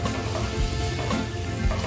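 Beef pieces for Filipino beef caldereta sizzle and crackle steadily in a hot pan, a close, continuous fry with no one talking.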